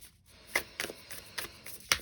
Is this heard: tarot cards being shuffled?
yes